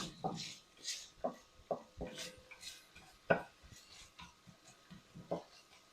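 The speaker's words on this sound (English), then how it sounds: "Stir it around." Onions being stirred in oil in a pot for lasagna soup, with irregular scraping and knocking of a spoon against the pot, under a speaking voice.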